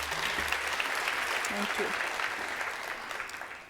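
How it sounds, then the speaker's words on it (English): An audience at a University of Johannesburg graduation ceremony applauds a performance with dense, steady clapping that fades slightly toward the end. A voice briefly speaks over it. "I'm sure you agree that that performance deserves another round of applause."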